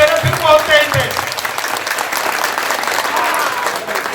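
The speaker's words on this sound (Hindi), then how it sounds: "इस प्रकार से तालियां बजाओ जैसे स्कूल में बच्चे बजाते हैं। धीरे धीरे धीरे फिर तेज" An audience claps at a Ravidas community gathering in Amar Colony, Delhi. A voice comes first, then dense, sustained applause fills the rest of the clip.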